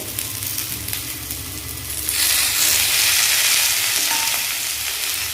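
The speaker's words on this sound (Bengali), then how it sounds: "ফুলকপিটা হালকা ভেজে নিয়েছি এখন লাস্টে এর মধ্যে যাবে ক্যাপসিকাম" Green capsicum goes into lightly fried cauliflower in a hot pan. A gentle sizzle swells into a louder, steady hiss partway through and holds close and continuous.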